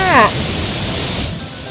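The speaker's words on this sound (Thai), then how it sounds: "ตอนนี้ถ้าอยู่ตรงมุมนี้ก็จะมีน้ำตกไหลอยู่ฝั่งนี้เหมือนกัน" Sai Thong waterfall in Thailand pours in a steady, full rushing wash of water close by, with a brief voice heard at the very start.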